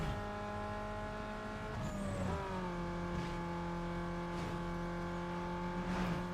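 A race car engine in the Need for Speed Underground 2 racing game holds high revs in a steady whine, dips and climbs again through a gear shift, with brief tire squeal and no talk.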